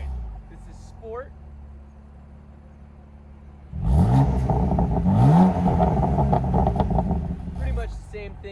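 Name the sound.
BMW F80 M3 exhaust revving in Sport mode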